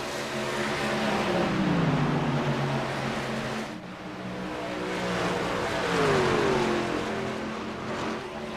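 Race truck engines roar at Dover in iRacing, with a sustained engine drone whose pitch sweeps down and up as trucks pass, loud and continuous with no talk over it.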